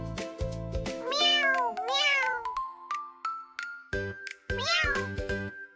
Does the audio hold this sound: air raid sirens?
no